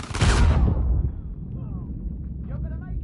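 A bomb detonates in an Uncharted 4 multiplayer match, a loud booming blast up front that rolls off into a rumbling decay, with faint game sounds trailing after.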